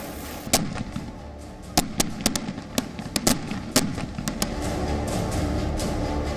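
Diwali firecrackers burst in rapid, irregular succession, sharp cracks and pops over a steady background din, some close and loud, others farther off.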